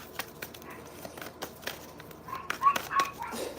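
A small dog indoors gives a few faint, scattered yips and whimpers in the background, quiet and intermittent against a low steady hum.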